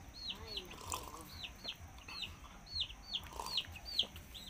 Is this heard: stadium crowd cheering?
no